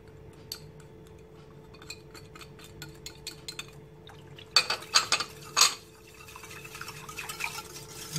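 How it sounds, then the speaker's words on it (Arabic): Cake mixture being stirred in a pot on the stove: light clinks and taps of a utensil against the pot, then louder scraping knocks and a soft wet swishing, close and fairly quiet. "غادي نخلط هادشي كلشي في البارد وعاد غادي نحطها فوق البوطه"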